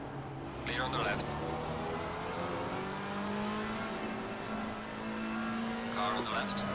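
Race car engines at Kyalami in Assetto Corsa Competizione, a sustained droning engine note with shifting pitch as cars run close by, under intermittent spotter radio calls and talking.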